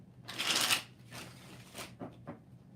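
Tarot cards being shuffled by hand, a loud riffling burst followed by several softer, shorter shuffles in quick succession, close up with no talking.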